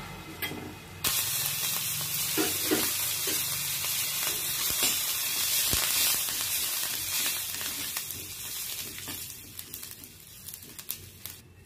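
Ajwain and curry leaves, added with pepper powder, sizzle and crackle in hot oil in a pan, a continuous close frying hiss with small pops, fading slightly toward the end.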